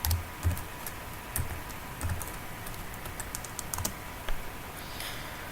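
Typing on a computer keyboard while writing a C# program, with irregular clusters of close key clicks and brief pauses between bursts, no talking.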